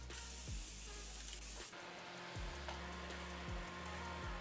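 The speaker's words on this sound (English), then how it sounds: "I'm gonna give it a spray." Setting spray misted onto a face after highlighting powder during makeup application, heard as a steady close hiss with a few short bursts and brief pauses between sprays, no talk.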